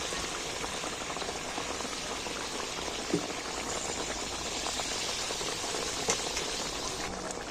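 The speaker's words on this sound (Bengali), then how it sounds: "এইবার আমি একটা একটা করে তুলে দিচ্ছি তেলের মধ্যে" Cauliflower florets frying in hot oil, a steady dense bubbling hiss that runs unbroken throughout, with a couple of faint clinks near the middle and end.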